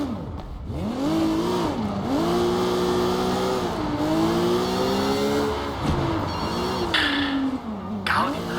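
A car driven in the video game Sleeping Dogs, its engine revving up and down through repeated gear changes with a steady, close motor drone, some tire noise near the end.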